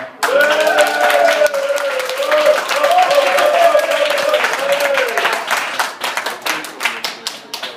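Enthusiastic audience applause and clapping at the close of a comedy show in a bar, loud and sustained, with someone speaking over it at first before the clapping thins into scattered claps.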